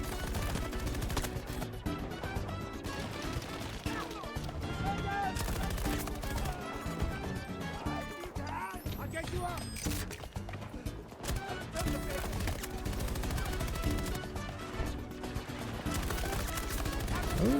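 Rapid gunfire in the shooter game Battlefield 2042, dense bursts of automatic shots layered with game effects and a busy battle mix throughout, with a voice talking over it.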